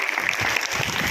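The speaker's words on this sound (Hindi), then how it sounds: "इनके लिए जोरदार तालियां" An audience at a school gathering honouring teachers applauds as a guest is called up to the stage. The clapping is dense and continuous, a short burst of many hands together.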